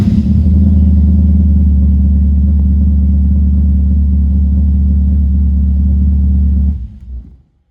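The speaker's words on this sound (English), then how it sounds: "it will start the car" A Specvette C1 car engine starts with a push button and settles into a loud, steady low idle rumble close by, cutting off abruptly near the end.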